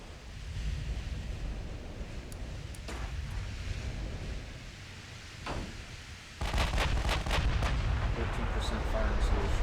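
Naval gunfire from battleships in Ultimate Admiral Dreadnoughts, several distant booming salvos over a rushing sea-and-wind bed, with a sharp louder burst of shots near the end.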